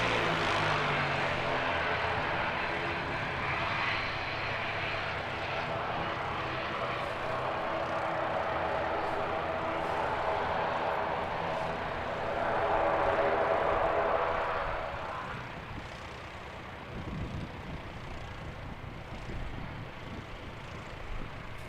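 Jetstar airliner engines at Christchurch Airport, New Zealand: a loud, sustained jet roar that swells and peaks, then gradually fades to a lower rumble, with no talk.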